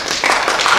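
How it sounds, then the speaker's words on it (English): Brief burst of clapping from a few people around a table at a township board meeting, fairly close and steady, with some murmuring voices mixed in. "clapping because I was right."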